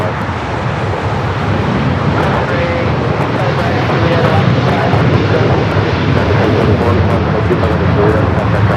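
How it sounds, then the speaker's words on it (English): A heavy jet airliner arrives on runway 24 right at LAX, a loud, continuous broadband roar that holds steady throughout, with a voice talking faintly beneath it. "Next heavy arrival on the 24 right."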